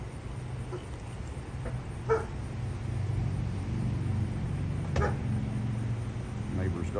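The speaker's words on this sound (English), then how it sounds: "Dog barking." A dog barks a few times at a distance during a nighttime police traffic stop at a city street corner, faint sharp yaps over a low rumble of idling traffic.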